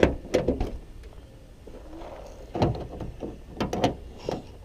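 A third-generation GM F-body car door handled and opened with several clunks and latch clicks, a few sharp mechanical knocks close by with quiet gaps between.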